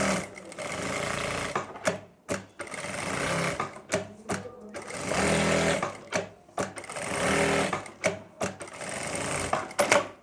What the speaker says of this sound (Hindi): अब हम इसको साथ के साथ मशीन से ही चिपका लेंगे।